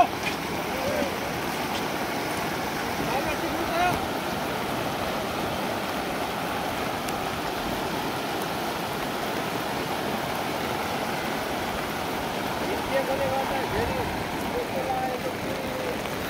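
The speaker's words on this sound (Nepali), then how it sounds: "अब यहाँ खोला यत्रो आइसकेको छ" A flooded river in Nepal, swollen after a dam upstream on the Kali Khola burst, rushes past in a steady, dense roar of turbulent water that holds loud and unbroken throughout.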